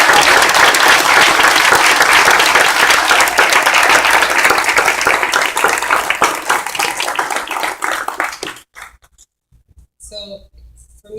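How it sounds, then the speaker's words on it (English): A live audience applauds honoured community leaders at a Houston gathering, loud, dense clapping that holds steady, then thins and fades out after about eight seconds, leaving a few quiet scattered sounds. "Please join me in giving them a big round of applause."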